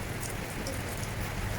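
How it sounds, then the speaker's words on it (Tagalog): Heavy rain in the UK on an early mid-April morning, a steady dense hiss of falling water that fills the short clip evenly and closely. "Ulan dito guys, UK. Sobrang ulan."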